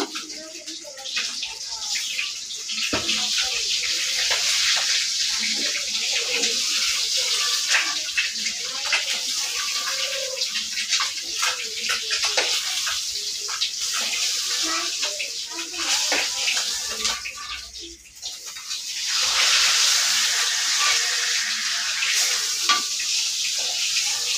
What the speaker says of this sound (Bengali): এদিকে আমি আলুটা ভেজে নিতেছি।